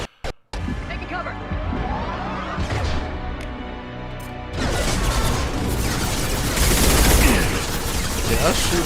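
Mass Effect 2 firefight with bursts of gunfire and crashing impacts building into a loud, sustained barrage, with voices speaking amid the shooting.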